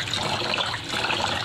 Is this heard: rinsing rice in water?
yes